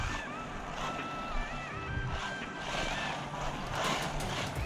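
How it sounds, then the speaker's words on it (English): A WLToys 144001 1/14 scale RC buggy runs at full throttle, its electric motor giving a continuous high whine over a broad rushing roar that holds steady throughout, with no voices. "let's turn the throttle all the way up. Oh, it lifts the front wheels off the ground."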